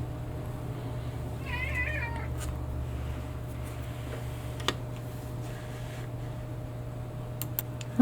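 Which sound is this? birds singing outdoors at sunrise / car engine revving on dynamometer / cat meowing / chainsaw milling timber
cat meowing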